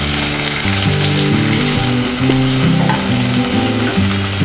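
Chopped onions frying in hot oil in a pan for a Bengali dhaba-style paneer masala, a loud steady sizzle running without pause over a low melodic backing.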